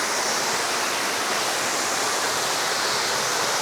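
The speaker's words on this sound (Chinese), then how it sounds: "好多瀑布。" Mountain waterfalls on a hiking trail to Shizhu Peak in Hunan roar in a dense, steady rush of falling water, loud and continuous, with no voices.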